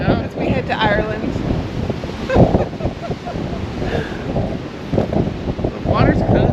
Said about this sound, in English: It's just a wee bit windy